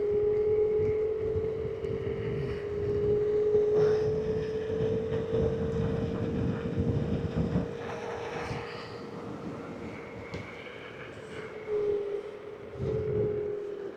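An EcoRoad ES4 800-watt electric scooter at top speed gives a steady high-pitched motor whine over heavy rushing wind noise, continuous and close, with gusts swelling and easing.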